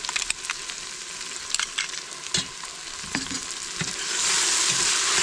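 Onions fry with crushed ginger and garlic in a pan for Kerala-style mutton biryani, giving a steady close sizzle with occasional stirring clinks and scrapes, and the sizzle grows louder toward the end.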